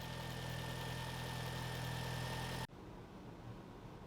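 A Volkswagen Passat 1.8T engine idles steadily after a timing chain tensioner replacement, a smooth even hum close by that cuts off abruptly partway through, leaving quieter room noise.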